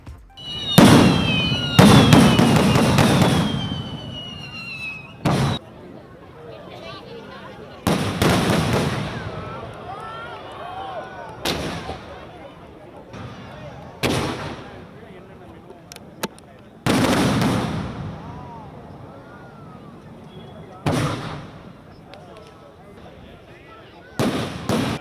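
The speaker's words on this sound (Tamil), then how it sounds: "சென்னை தீவுத்திடலில் வண்ணமயமான பிரம்மாண்ட வானவேடிக்கை நிகழ்ச்சி" Fireworks display over Island Grounds in Chennai, a series of loud booming bursts and crackling pops spaced several seconds apart, some with whistling trails, with crowd voices and talk filling the gaps.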